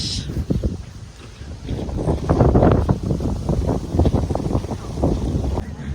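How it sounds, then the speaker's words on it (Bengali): Gusty wind buffeting the microphone outdoors, low rumbling bursts rising and falling over several seconds. "বাতাস আছে অনেক ঠান্ডা বাতাস"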